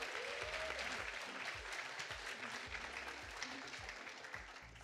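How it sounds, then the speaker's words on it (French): Audience applause after a winner is named in a prize draw at a tech conference's closing keynote, sustained crowd clapping heard at a distance and fading slightly toward the end. "On peut l'applaudir s'il vous plaît."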